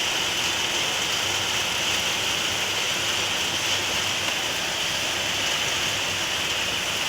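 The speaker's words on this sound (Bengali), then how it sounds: "বৃষ্টি দেখো তোমরা, বৃষ্টিটা খুব ভালো লাগছে।" Heavy rain falls steadily, a dense, even roar of drops that stays loud and unbroken throughout.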